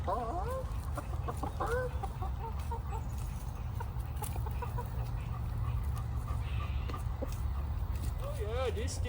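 Chickens in a small flock clucking and squawking repeatedly throughout, close by, mixed with people talking over a steady outdoor background.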